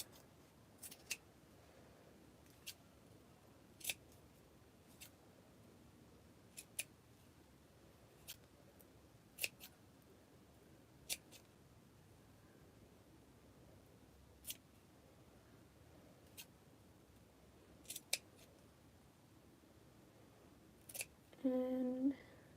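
Scissors trimming a paper star, each cut a sharp isolated snip spaced a second or two apart against a quiet room, ending with a brief louder rustle.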